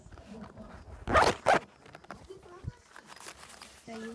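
A pencil case zipper is pulled shut in two quick, close rasping strokes, followed by soft handling noises, with a voice talking nearby.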